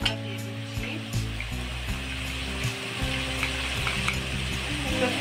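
Prawns that have already been fried for a few minutes sizzle in a pan as powdered spices go in. A dense, steady frying hiss runs throughout, with occasional stirring and tonal background music.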